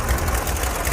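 A restored Murray garden tractor's small engine runs after starting, a steady, fairly quiet chugging heard up close with no talking.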